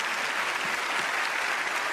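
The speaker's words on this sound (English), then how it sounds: "Give him a round of applause, ladies and gentlemen" Studio audience at a magic show breaking into applause, dense and steady clapping filling the whole moment at an even, fairly close level.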